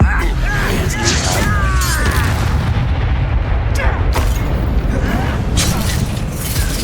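Confringo blasting spell explosions in Hogwarts Legacy, loud crackling blasts and crashes that keep going across a dense, continuous layer of battle noise, with a voice speaking over it.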